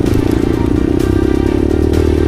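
A motorcycle labors up a steep, continuously climbing village road in Dusun Petung, Bondowoso, its engine droning steadily close by with rattling clatter over rough ground.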